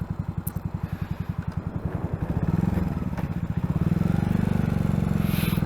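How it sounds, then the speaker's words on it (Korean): A Yamaha SR400 single-cylinder motorcycle thumps steadily through its muffler while riding, a rapid, even, low-pitched pulse that grows slightly louder and fuller midway, close to the microphone with no talking. "이렇게 머플러에서 지금 텅텅텅텅텅텅 올라오는데 뭔가 통통배를 탄 것 같기도 하고"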